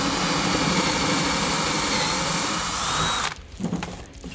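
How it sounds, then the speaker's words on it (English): A power drill with a brad point bit bores holes through a guitar body for a string-through bridge, a loud continuous high whine that stops abruptly near the end, leaving quieter handling noise. "And there's all the holes drilled."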